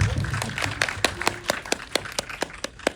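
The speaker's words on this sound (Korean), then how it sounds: "박수 한 번 더 주세요." A small audience at a film screening Q&A claps in a brief burst of sharp, scattered hand claps that thin out over a few seconds.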